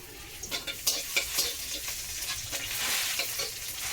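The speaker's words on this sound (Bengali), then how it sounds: "তেলটা আমার গরমই হয়ে গেছে তো সবার প্রথমে যেটা দেবো সেটা হচ্ছে রসুন" Lightly crushed garlic frying in hot oil in a home kitchen, a continuous bright sizzle with soft stirring clatters and occasional pops throughout.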